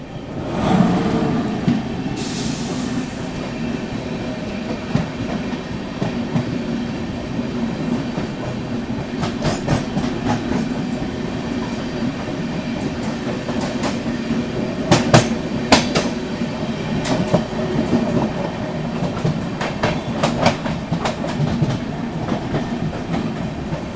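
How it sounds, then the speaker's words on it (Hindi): Amrit Bharat Express from Chhapra to Anand Vihar rolling past through dense fog, a loud, steady rumble with rhythmic clickety-clack of wheels over rail joints and sharp metallic clanks, heard close and continuous without speech. "फॉग को एकदम चीरते हुए निकल के आ रही है अमृत भारत एक्सप्रेस।"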